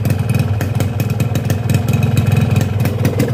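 A cold two-stroke motorcycle engine running on Eni I-Ride 2T smokeless oil, a loud, steady close-up idle with a dense rattling putter and slight rises in revs throughout.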